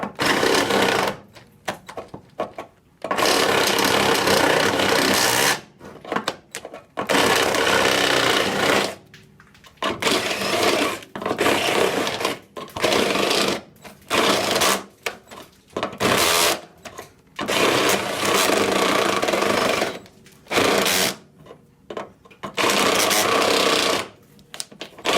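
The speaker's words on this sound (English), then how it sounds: "Stepper bit will bite." A power drill with a step bit grinds into metal on a junkyard Datsun in repeated bursts of harsh, high whirring, separated by short pauses.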